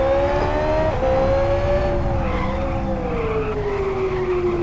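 A race car in the Live for Speed racing game at South City brakes hard, its loud, steady engine whine falling in pitch over a continuous tire skid, with no clear crash of hitting a wall.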